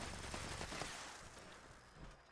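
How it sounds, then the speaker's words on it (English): A machine gun turret fires in the video game Fallout 76, a faint, distant stream of rapid shots that thins out toward the end. "Oh, machine gun turret?"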